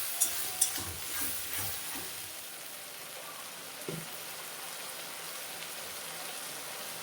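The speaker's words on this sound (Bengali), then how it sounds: "এখন আমি আদা রসুন পেঁয়াজ কাঁচা লঙ্কা বাটাটা দিয়ে দিলাম।" A paste of ginger, garlic, onion and green chili goes into a pan with fried onions and fries in a faint, steady sizzle, with a few soft stirring knocks near the start.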